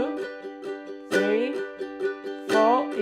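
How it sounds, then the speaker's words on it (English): Ukulele chords strummed in a lilting three-beat pattern, with strong accented strums recurring every beat cycle and lighter strokes between, played close and alone. "the third pattern, which is a strumming pattern, again will be a 3-4."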